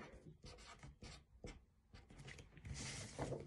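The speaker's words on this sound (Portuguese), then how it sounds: "Então a professora vai escrever aqui, ó." A teacher writing on a board, a quiet series of short scratchy strokes, several in quick rhythm with brief pauses, close by and alone.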